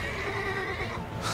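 Horses pulling a carriage in Assassin's Creed: Revelations give a loud, close whinny, with a brief burst of extra noise at the end.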